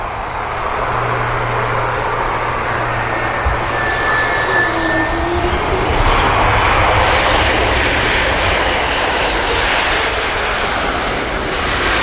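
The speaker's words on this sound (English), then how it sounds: "Lufthansa about to touch down." A Lufthansa airliner touches down at Manchester Airport, its jet engines giving a steady, loud broadband roar that holds throughout, with a low hum running underneath.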